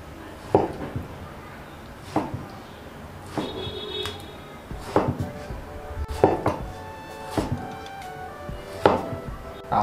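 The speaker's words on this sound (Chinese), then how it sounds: "那我们给它切成小块" A knife chops tomatoes into small pieces on a cutting board: about seven sharp, close strikes at uneven intervals, with light clatter between them and quiet room tone.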